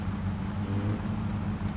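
A car engine idles steadily in the My Summer Car video game, a low continuous rumble with a faint irregular ticking under it, close and alone without talk.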